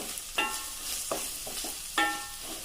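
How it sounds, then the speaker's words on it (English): Onions fry in a pan for mutton kofta curry, a steady close sizzle broken by a few sharp scrapes of stirring. "I'm going to fry it up till the onions are brown, slightly brown,"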